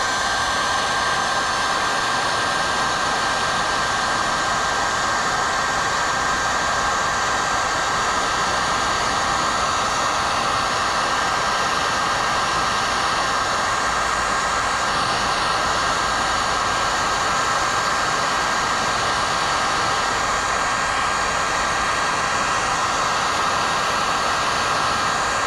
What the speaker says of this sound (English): then you just use a heat gun and it goes really quick